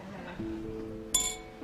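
Glasses clink once in a toast, a short bright ring that fades quickly over a quiet background hum.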